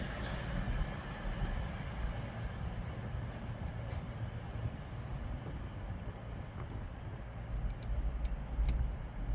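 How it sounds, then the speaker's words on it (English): Train pulling out of Manchester Piccadilly station, a TransPennine Express service, giving a steady low rumble and rolling hum with faint high squeals and ticks near the end, no voices. "now departing is the 1500 Transpernine Express service to Staley Bridge"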